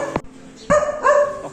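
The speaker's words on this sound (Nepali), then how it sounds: "माथिबाट कुकुरले भुकिरहेको यार" A dog barks from somewhere above a studio, three sharp barks spaced unevenly, fairly loud and clear with a short gap between each.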